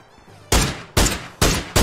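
Four sharp, loud gunshots ring out from PUBG gameplay, evenly spaced about half a second apart after a brief quiet lead-in, each with a short decaying tail.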